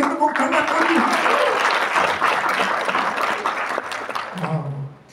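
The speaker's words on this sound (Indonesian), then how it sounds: "Berikan tepuk tangan kami." A church congregation bursts into loud, dense applause that holds for several seconds and then fades, with voices mixed in.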